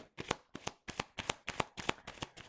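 A deck of Lenormand cards is riffled and shuffled for a reading, eight crisp evenly spaced bursts of flicking cards, close and clear with no talk.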